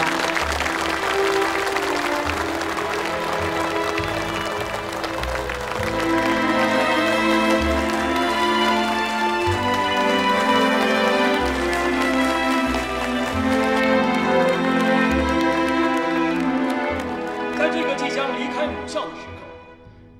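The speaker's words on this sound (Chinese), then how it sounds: "再一次以热烈的掌声有请何牧阳。" Warm, sustained applause at a graduation ceremony welcomes a graduate representative, blending with prominent music that swells throughout before fading at the end.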